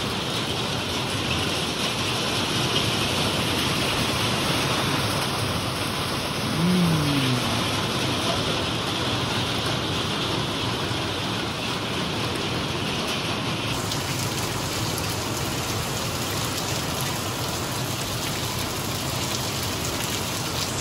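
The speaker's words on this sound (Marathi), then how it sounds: "अचानक पाऊस पडायला लागला." Sudden rain falls in a steady, dense hiss that stays even and fairly loud throughout, with a faint vehicle passing partway through and no speech.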